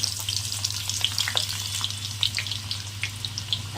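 Amla, Indian gooseberries, frying in hot oil in a kadai over a low flame, a steady close crackling sizzle with scattered sharp pops and spits above a constant low hum, no voices.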